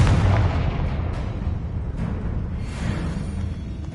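Repeated Confringo spell blasts in Hogwarts Legacy, aimed at destroying eggs, go off as loud booming explosions that roll into a dense, rumbling wash of fire and debris.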